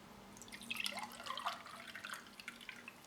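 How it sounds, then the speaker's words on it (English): Tutti Frutti flavoured drink, about 500 ml made up with water, is poured into a glass, producing a faint, close trickle with light splashing and bubbly drips across a few seconds. "Let's pour some up straight away."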